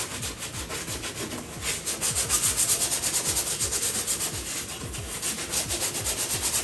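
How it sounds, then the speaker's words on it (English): Hand sanding a car wing (fender) with a 120-grit sanding block on a carbon fiber skinned part: steady, close back-and-forth rasping strokes in a continuous rhythm, with no talking. "So we're just gonna take 120 grit, just like that, and sand down the rest of the wing by hand."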